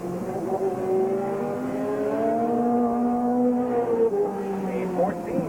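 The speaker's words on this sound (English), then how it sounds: "The green flag out, and Tim Ice on his second qualifying lap there." A race car runs a qualifying lap at an Ohio speedway in 1987, its engine droning loudly with a rising and falling pitch as it circles, under a track announcer's commentary.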